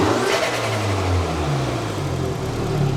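Mini Cooper engine fitted with a carbon fibre intake, revved up close and loud, its low tone rising and falling with a rough, stuttering edge over about three seconds.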